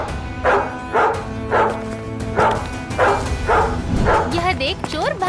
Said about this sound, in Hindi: भौंक भौंक कर सबको जगा देता है